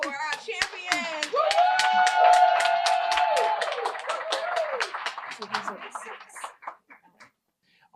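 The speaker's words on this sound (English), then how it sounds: "One more round of applause for our champions." Applause and clapping for award champions at a community beautification brunch, with a crowd of hands clapping through most of the clip under loud talk and a sustained voice, then fading out toward the end.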